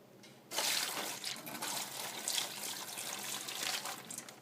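Brine pours and splashes steadily into a kitchen sink over a pork loin for smoking, a continuous bright liquid gush starting abruptly and holding for several seconds, close and fairly loud.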